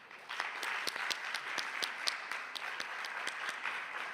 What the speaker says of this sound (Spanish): Les invitamos a recibirlo con un aplauso.